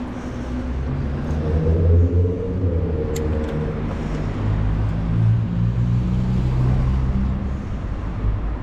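Ride along the Stoke one-way system, a steady low road rumble and engine drone throughout with passing traffic noise, no voices.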